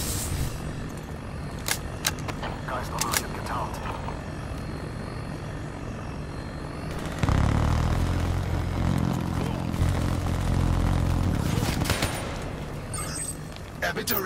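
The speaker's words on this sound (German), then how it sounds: "Drohne nähert sich." An approaching combat drone in a first-person shooter video game gives a steady mechanical whir and rotor drone that swells louder halfway through, mixed with gunfire bursts and game effects, with no one talking.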